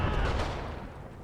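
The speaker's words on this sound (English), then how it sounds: "Somebody with a pistol" Gunfire, including a pistol, crackles in the war game Graviteam Tactics Mius, a short burst of rumbling shots that fades quickly.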